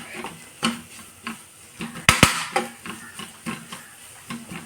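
Onions sautéed in very little oil for a mussel roast get stirred in a pan, giving a steady rhythm of soft scrapes and spoon taps over a faint sizzle, with a couple of sharper clanks midway.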